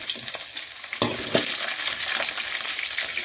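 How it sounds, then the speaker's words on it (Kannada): Mustard seeds, chana dal and green chilies crackle and sizzle steadily in hot oil for upma, a dense close hiss with a few sharp spoon scrapes and pops, no voices. "ಎಣ್ಣೆ ಬಿಸಿಯಾಗಿದೆ ಸ್ವಲ್ಪ ಸಾಸಿವೆ ಒಂದು ಸ್ಪೂನು ಕಡಲೆಬೇಳೆ ನಾಲ್ಕು ಹಸಿರು ಮೆಣಸಿನಕಾಯಿ"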